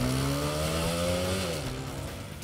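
A TVS Apache RTR 160 4V motorcycle engine revs near and loud, its buzzing tone climbing and then falling away as the throttle eases off in a short burst.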